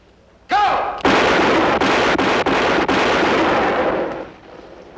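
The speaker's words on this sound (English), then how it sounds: "That's pretty good shooting, son." Rifle shots ring out in a Western setting: one loud crack, then a rapid run of several more blasts fired close together, each booming and echoing before the sound trails off.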